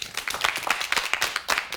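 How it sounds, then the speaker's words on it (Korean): A studio audience at a KBS storytelling program gives a brief burst of lively applause, with many hands clapping close together. "두 번째 이야기입니다. 박수 부탁드립니다"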